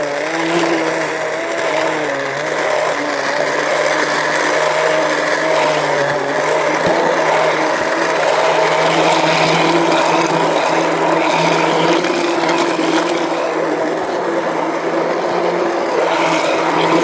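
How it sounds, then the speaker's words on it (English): Cuisinart immersion blender whirring steadily in cold water while mixing a protein shake, a continuous close motor drone with a shifting pitch that runs without a break. "Cuisinart immersion blender."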